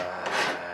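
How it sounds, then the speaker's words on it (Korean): A hand file rasps across a pure gold jar during shaping, one short, close, steady scraping stroke. "줄질이라고 부르는 이 작업을 수천 번을 해야 모양이 완성됩니다"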